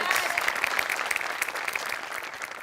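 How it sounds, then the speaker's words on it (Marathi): Studio audience applause on a Marathi comedy show, a dense steady wash of many hands clapping at close range, with a faint whistle-like tone riding on top and no speech. "तुझ्यासाठी विशेष टाळ्या"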